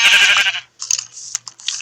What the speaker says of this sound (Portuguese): Olha, uma ovelha